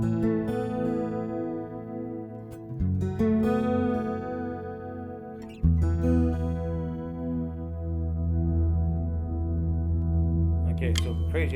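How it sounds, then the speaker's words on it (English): Electric guitar chords through a NUX Stageman floor preamp ring out drenched in maxed-out reverb, each strum washing into a long, smeared tail that fills the space between hits. "Let's go maxed out with the reverb."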